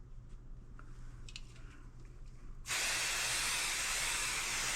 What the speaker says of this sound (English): Now I'm going to grab my 505 temporary adhesive spray and just kind of tack it all down.